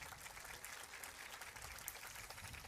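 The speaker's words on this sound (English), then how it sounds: "Another big round of applause." Continuous applause from a sizeable audience at a city's State of the City event, even and unbroken throughout, heard at a moderate distance without any voices.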